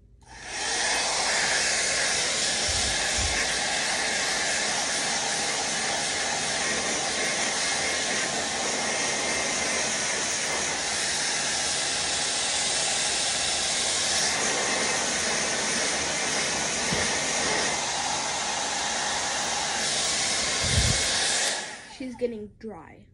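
A hair dryer blows a loud, continuous hiss close up for about twenty seconds while drying a wet pet rabbit, then switches off near the end.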